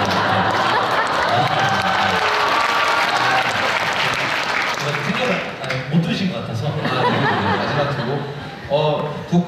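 A concert audience at a crossover vocal quartet performance claps steadily, with scattered chuckles and laughter. Spoken talk runs alongside and continues as the clapping fades.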